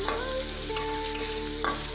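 Fried food and egg bhujia stirred in a pan, with a close, steady sizzle and a few scraping stirs of the spatula over the brief stretch and no talk.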